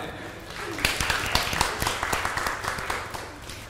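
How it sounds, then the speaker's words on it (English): A church congregation breaks into applause for an elderly parishioner's 80th birthday, a scattered burst of hand claps that builds quickly and then thins out, with some talk underneath. "That deserves applause."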